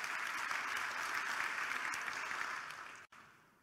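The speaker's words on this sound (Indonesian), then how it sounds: "Yang mau tepuk tangan bagi Allah kita." Congregation applause fills a church worship service, a steady dense clapping that holds loud and even before tapering off near the end.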